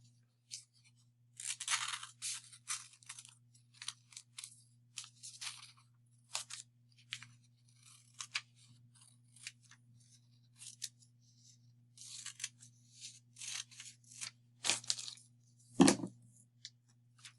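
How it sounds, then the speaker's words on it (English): Scissors snip through folded paper while a heart-shaped Valentine's card is cut along a drawn line, with short bursts of crisp cutting and pauses between them, close and fairly quiet. "when I open this up, I'm going to cut on my line"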